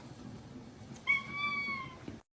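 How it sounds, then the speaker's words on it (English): A cat gives one clear, drawn-out meow at close range, rising and then trailing off, over a faint background of room noise. "What a funny cat."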